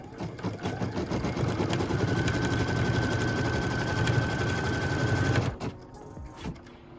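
A sewing machine runs in one continuous, close, steady burst for about five seconds while stitching pieced quilt block fabric, then stops, leaving a few faint handling sounds.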